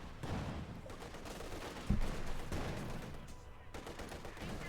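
Rattling small-arms gunfire from the real-time strategy game Company of Heroes 2, dense and continuous bursts with one sharper crack, heard at a moderate level under a busy battle mix.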